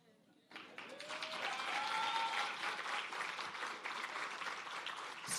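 An audience at an export academy launch event breaks into applause after a short quiet lead-in, clapping sustained and fairly close with a few voices calling out over it.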